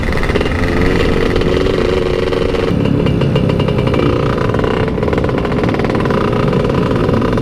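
Motorcycle engine, an automatic scooter at a red-light street race, revving hard and loud, a steady buzzing roar held throughout with slight surges in pitch.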